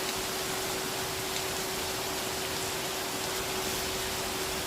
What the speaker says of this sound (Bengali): বর্ষাকাল বর্ষাকাল, তা বলে এইরকম বৃষ্টি?